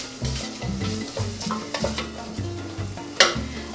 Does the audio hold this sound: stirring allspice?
yes